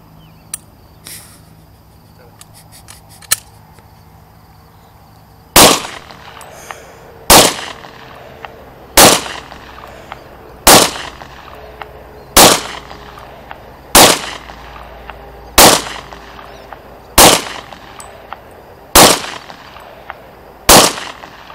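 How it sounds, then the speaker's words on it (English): Ten sharp, loud shots from a Walther P99 pistol in .40 S&W, fired one at a time at an even, unhurried pace, each crack followed by a short ringing tail, after a quiet opening. "shooting a Walther P99 caliber 40 Smith & Wesson."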